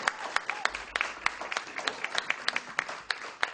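Audience clapping at a school budget meeting in a town hall, a sparse, uneven patter of individual claps close by that continues steadily for a few seconds without voices over it.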